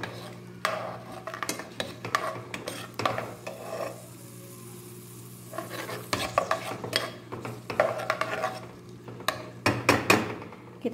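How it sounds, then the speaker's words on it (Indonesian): Hot oil in a pan for Middle Eastern–style spaghetti with long macaroni, heard as a soft sizzle beneath repeated close stirring and clinks of a utensil against the pot. "di sini saya sudah siapkan minyak panas, kita langsung goreng"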